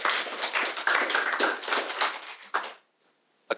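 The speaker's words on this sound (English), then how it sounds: "A round of applause for Professor Katiotes." A conference audience claps for a professor after a keynote, a dense round of applause that fades out abruptly near the end, followed by a single late clap.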